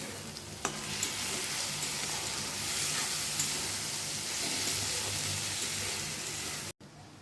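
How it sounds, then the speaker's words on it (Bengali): Spice paste with turmeric and Kashmiri red chili powder fries in a pan for a prawn curry, giving a steady soft sizzle with faint scraping stirs, and no talking. "এবার মশলাটা একটু অল্প অল্প জল দিয়ে ভালো করে কষিয়ে নেব।"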